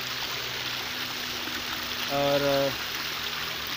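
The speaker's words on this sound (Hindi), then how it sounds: "देखिए जैसा कि ये सब झरना आगे जाके नीचे खाड़ी में चला जा रहा है" Clear hill stream at Matheran flowing down toward a creek, a steady close rushing and trickling of water that runs throughout, briefly overlapped by a spoken word and a short tonal sound.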